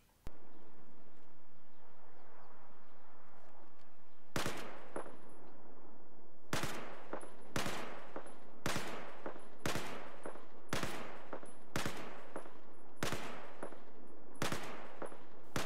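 Rapid single gunshots from Battlefield 4 gameplay ring out in a regular rhythm, each loud crack followed by a short decay, firing repeatedly roughly once per second after a brief quieter start.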